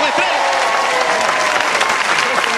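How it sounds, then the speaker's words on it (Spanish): Lively audience applause at a comedy show, a continuous burst of clapping from a crowd with voices mixed in underneath. "Aplauso"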